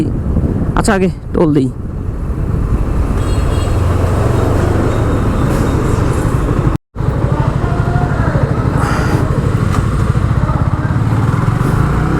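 A motorcycle cruises along a highway between Khulna and Batiaghata, its steady engine drone and wind roar filling the whole stretch with only one brief dropout. A voice talks over it near the start.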